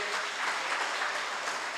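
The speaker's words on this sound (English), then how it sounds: "Give her another big round of applause, please, everybody." An audience at a reading clinic opening ceremony claps steadily in a dense, sustained burst of applause with no voices standing out.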